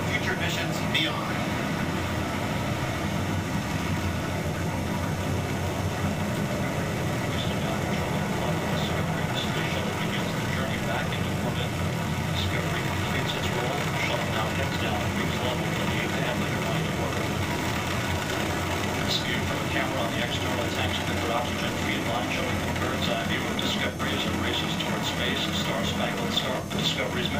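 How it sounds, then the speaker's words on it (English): Space Shuttle Discovery booster ignition and liftoff: a continuous, dense roar fills the whole stretch without letting up, with a voice speaking over it at times. "booster ignition, and liftoff of the Space Shuttle Discovery"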